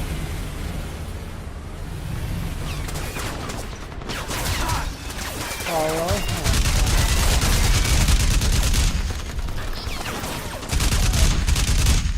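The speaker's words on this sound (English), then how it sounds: "Oh, you went and shot up my new vehicle." Sustained bursts of gunfire in Crysis Remastered rake a vehicle, dense and loud with rapid shots layered over explosive rumble and mechanical clatter, building in intensity toward the end with no talk.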